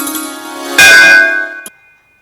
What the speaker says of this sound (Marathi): पूजा केल्यानंतर आपण घंटी वाजवतो